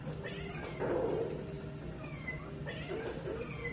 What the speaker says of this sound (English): That cat in the lower left corner that I didn't kill just now